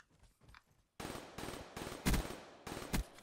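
In Call of Duty Black Ops 3, an M8 rifle fires in rapid automatic bursts. Quieter shots at the start give way to loud, close firing with two especially heavy bursts near the end.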